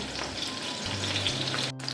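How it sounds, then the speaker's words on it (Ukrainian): Loud, continuous sizzling of chicken fillet cutlets frying in a hot pan, crackling and spitting close up with no talking. "Продовжуємо смажити."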